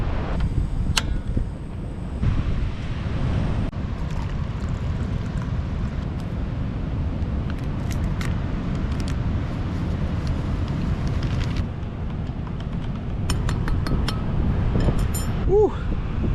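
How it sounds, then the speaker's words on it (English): Strong gale wind roars steadily outside a tent on a solo camping trip at a rocky bay, a constant loud broadband rush with buffeting gusts and brief clatters. "It is blowing gales outside."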